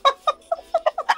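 A chicken clucks in a quick, regular series of about seven short, close, distinct clucks with brief gaps between them.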